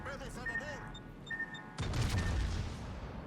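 Naval gunfire in World of Warships, with a ship under constant bombardment from all sides: a dense run of booming shell impacts swells suddenly halfway through and rolls on loudly beneath game tones and a voice speaking.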